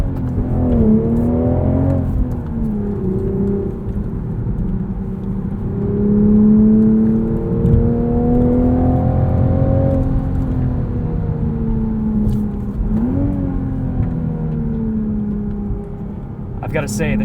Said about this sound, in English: A little bit of piped in engine note.